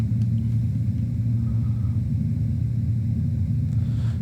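PMDG airliner engines spool up in Microsoft Flight Simulator 2024, on a Philippine Airlines flight at Manila, giving a heavy, steady low rumble that holds level throughout with no talk over it.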